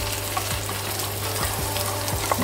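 Tomatoes frying in a pan for a Goan xevtteanchem green curry, a dense, continuous close sizzle with a low steady hum and a few light taps of a stirring spoon, no voices.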